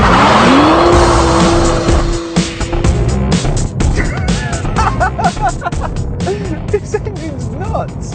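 BMW 1 Series M Coupe spinning its tyres under hard acceleration, a loud sustained squeal over engine roar that fades into skidding and road noise with a voice talking faintly underneath.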